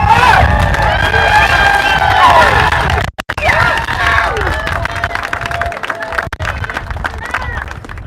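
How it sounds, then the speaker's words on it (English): A loud crowd cheering and shouting with some clapping at an outdoor End The Mandates political rally in Vancouver, Washington, a dense roar that dips briefly, then resumes as someone shouts. "Round of applause"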